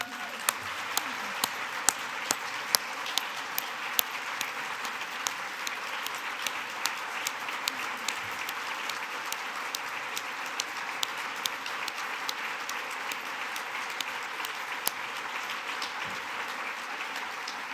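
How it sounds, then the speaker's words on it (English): A conference plenary audience gives long, steady applause, a dense wash of clapping at moderate distance with scattered sharper individual claps, continuing evenly throughout without speech. "Round of applause for it."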